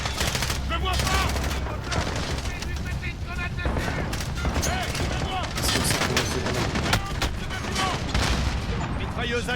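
Dense, continuous automatic gunfire and machine-gun bursts from the Call of Duty Modern Warfare (2019) video game, loud throughout with rapid overlapping shots and players talking underneath.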